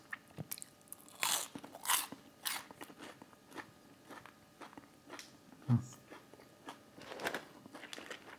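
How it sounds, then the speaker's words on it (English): Crunchy bites into Chick-fil-A waffle fries, sharp crisp crunches and chewing close to the mic, irregular and repeated through the clip, with faint background noise. "let's try their waffle fries."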